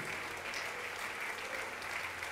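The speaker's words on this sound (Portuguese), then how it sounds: "Vamos aplaudir mais ao nome de Jesus." A church audience claps together in a continuous, even burst of applause, fairly distant and moderate in level, with no voices rising above it.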